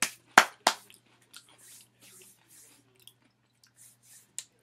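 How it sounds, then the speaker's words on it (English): Cheese noodle snacks are crunched and chewed close to the mic, with a few sharp crisp bites at the start followed by softer intermittent chewing and small crackles, no talking. "I was also crunching on these cheese noodles."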